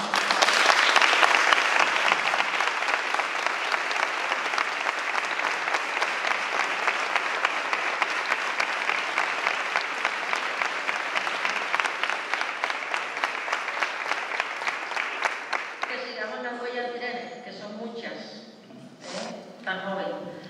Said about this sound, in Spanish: nosotros te vamos a dar un aplauso